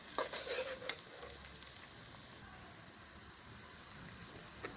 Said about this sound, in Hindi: अब मैं इसमें ये अदरक लहसुन का पेस्ट अब ये सब चीज़ें ब्राउन हो जाएंगी